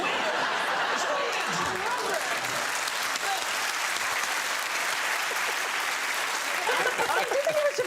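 A studio audience at a comedy quiz show bursts into sustained applause and cheering, a dense steady wash of clapping with scattered laughter, rising slightly at the end.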